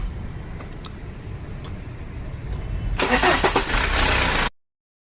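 A BMW 320d with a repaired starting fault and intake manifold leak sits quietly at first. It then cranks and catches with a sudden loud burst, running close and strong for a second and a half before cutting off.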